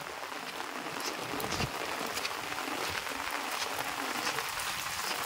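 Heavy rain pours over a flooded house front in a Philippine province, a continuous soft hiss of falling water and rushing flow, steady and fairly faint with no voices.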